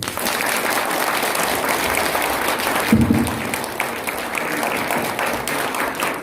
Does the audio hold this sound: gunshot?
no